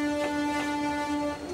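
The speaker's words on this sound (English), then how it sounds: "It's a diesel engine." A diesel engine from Thomas & Friends approaches with a loud, steady multi-tone horn blast held throughout, over faint rumbling of the train on the rails.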